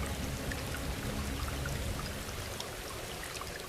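Steady rain falls in Brazil's Atlantic Forest, a dense, even hiss of countless drops pouring through humid woodland, close and continuous with no voices.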